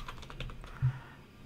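Typing on a computer keyboard, a quick run of light clicks and taps close by, quiet and alone with no voices, ending in one firmer keystroke.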